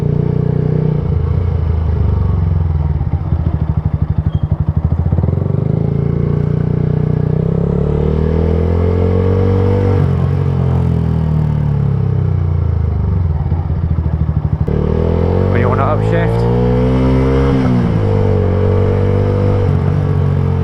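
A motorcycle runs steadily under the rider, engine pitch rising with throttle and dropping through clutch-and-lever gear changes, with constant loud wind rumble across the whole stretch.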